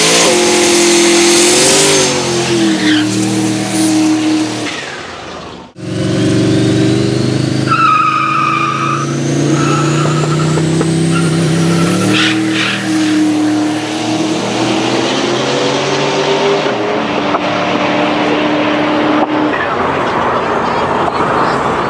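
A race car engine revving hard in a racing setting, loud and close, with rising and falling harmonic whines, a sudden cut-off partway through and brief skidding, under occasional talk.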